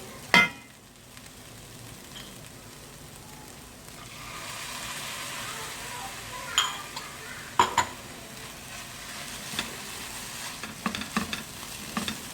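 Keema mince with onion, lemon juice and green chilli sizzles steadily in a pan, while a spoon stirs and knocks against the metal in sharp, irregular clatters and no one speaks.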